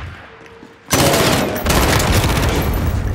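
Heavy automatic gunfire in the video game Call of Duty Modern Warfare breaks out suddenly after a quiet moment, loud, dense and continuous bursts with a booming edge, no talk over it.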